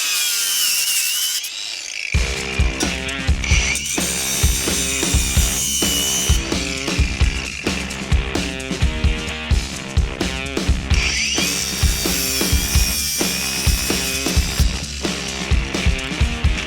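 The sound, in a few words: Makita cordless grinder running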